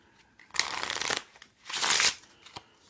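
A Pr1me Arte playing card deck riffle-shuffled twice, each a crisp, close burst of rapid fluttering card snaps separated by a brief pause.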